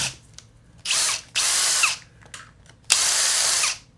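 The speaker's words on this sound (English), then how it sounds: "carefully drill the hole" A power drill whirs close by in three short bursts, drilling a hole in a plastic push-mower wheel, spinning up loudly between brief pauses.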